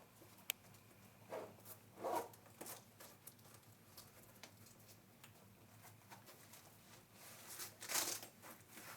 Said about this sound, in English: Go ahead and zip it up.